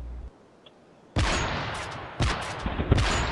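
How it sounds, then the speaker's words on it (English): Gunfire in the video game Aground comes in two loud, dense bursts of rapid shots after a quiet start, each volley crackling and rattling for about a second, close and harsh. "Why are you shooting at me?"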